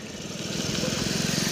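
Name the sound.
Kia Seltos diesel CRDI engine running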